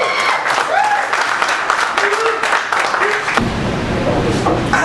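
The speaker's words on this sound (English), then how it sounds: "Give yourselves a round of applause." A poetry event crowd claps steadily through most of the stretch, dense and close, with brief vocal calls mixed in before the applause thins toward the end.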